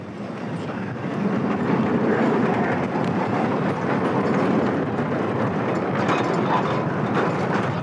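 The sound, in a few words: train in Mugeln rail yard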